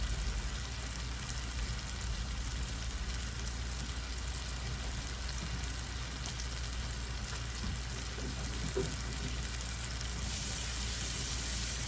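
Lobster tail frying in a pan, giving a steady, faint, even sizzle and crackle that holds without pause from start to finish.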